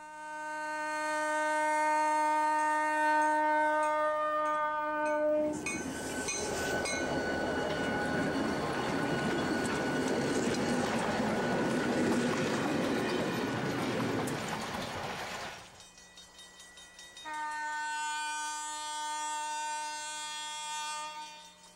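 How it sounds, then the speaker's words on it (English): A westbound train's horn sounds long sustained chords at a country crossing, broken by a loud rumbling roar of the passing train, then the horn resumes. "the westbound blows its whistle for a crossing as it arrives"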